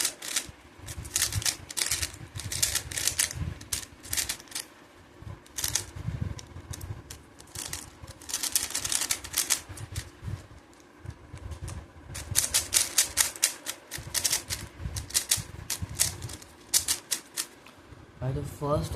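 A Drift 3x3 stickerless cube being turned quickly, giving dense bursts of plastic clicking and clacking close to the microphone, with someone talking in between the turning.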